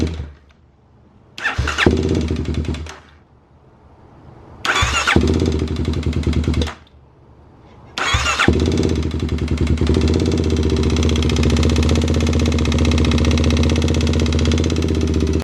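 A Kawasaki KLX351 motorcycle with a metallic clang from the engine makes two short start attempts that cut out. On the third try it catches and settles into a loud, steady idle close by.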